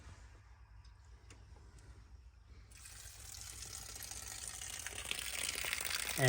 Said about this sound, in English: And you can see the water running out.